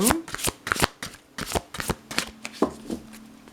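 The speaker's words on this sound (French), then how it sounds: "Donc je fais un petit mélange, voir si une carte sort un petit peu" Oracle cards shuffled by hand in a series of quick, crisp riffling bursts, close and fairly loud, with faint voice-like sounds mixed in.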